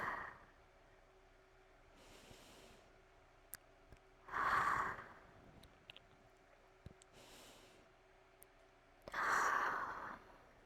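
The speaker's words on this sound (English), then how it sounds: "Copy my breathing, and I guarantee you'll feel more at ease." Slow, relaxed breathing close to the ear: two long drawn breaths with soft airy texture, separated by quiet pauses, with no talking.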